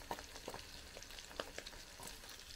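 Eggs frying in a pan over an alcohol stove, a quiet, steady sizzle with soft crackles and a few light scraping taps, heard alone.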